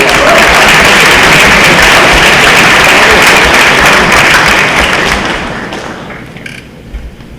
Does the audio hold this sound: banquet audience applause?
yes